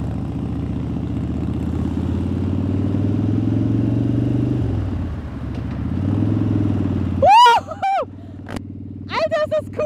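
A Harley-Davidson motorcycle being ridden, its low engine rumble steady and close, dipping briefly midway, while a rider speaks excitedly and loudly over it toward the end.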